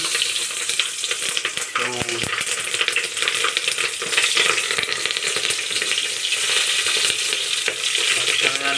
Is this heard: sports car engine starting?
no